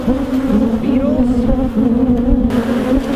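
Honeybees buzz steadily around a hive box holding a little honey, a close, continuous droning hum with wavering pitch and no pauses.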